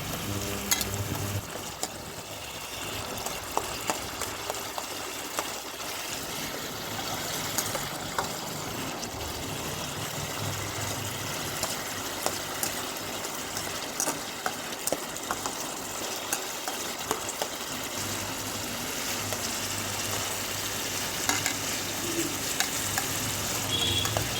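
Okra with red lentils and chili powder is stirred in a frying pan, a steady close sizzle with frequent small scraping ticks from the spoon, continuing evenly throughout with no talk.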